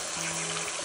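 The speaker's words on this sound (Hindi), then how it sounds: "अब मैं इसमें डाल दूंगी कड़ी, मतलब कि जो छाछ में बेसन तैयार किया हुआ ना वो डाल दूंगी इसके बीच में" Buttermilk mixed with gram flour is poured into a hot kadhi tempering in a home kitchen, a steady, close, continuous pouring and gushing with a faint tone running underneath.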